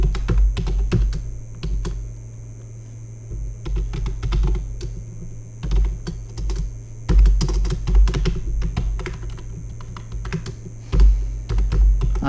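Continuous close computer keyboard typing as code is written in GameMaker Studio 2.3, a dense irregular patter of keystrokes with brief pauses and heavier thumps, over a low steady hum.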